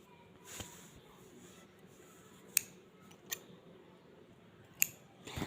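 Scissors snip paper strips into small triangles for a mini bookmark, giving a few sharp, separate clicks spaced over several seconds against a quiet room background.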